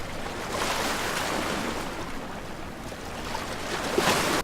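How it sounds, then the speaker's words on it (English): Ocean waves as a sound effect, a continuous broad rushing wash of surf with gentle swells in loudness, close and full, a brighter splash near the end, no voices. "I've got some ocean sounds"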